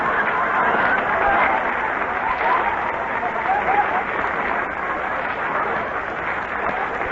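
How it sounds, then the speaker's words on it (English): A studio audience applauding during a 1942 Bob Hope radio broadcast: dense, continuous clapping that holds at an even level for several seconds, with faint crowd murmur underneath. "No applause in there, please."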